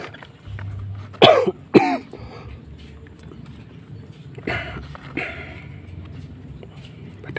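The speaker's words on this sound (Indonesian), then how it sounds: "Pada batuk semua teman-teman." Several people coughing in short bursts, two sharp close coughs early on, then softer coughs further off, over a low steady background hum in a quiet outdoor setting.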